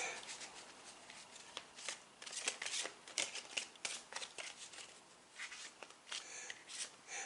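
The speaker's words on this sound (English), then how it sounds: "let's do a little bit more shuffling" A deck of tarot cards being shuffled by hand, with a steady run of soft, papery riffles and snaps that rise and fall in loudness close by, with no talking.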